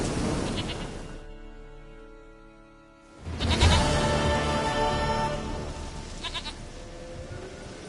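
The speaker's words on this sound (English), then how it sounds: "Goat of mine, dearest, sweetest goat." A goat in The Witcher 3: The Wild Hunt gives two bleats, a shorter nasal one followed after a pause by a louder, longer wavering cry, close and clear.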